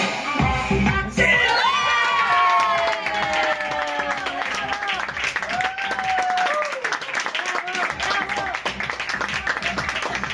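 Audience ovation at the finale of a magic show by a magician, dense applause and crowd noise rising sharply after the first second and sustained throughout, with cheers and voices mixed in over the clapping.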